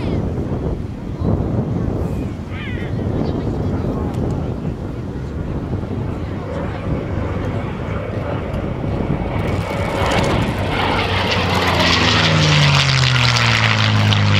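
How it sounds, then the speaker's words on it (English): A P-51D Mustang propeller fighter roars past on a low pass at an air show, loud and sustained with wind buffeting, the engine note climbing and then sweeping down as it goes by. "Last pass of beautiful P-51 Mustang"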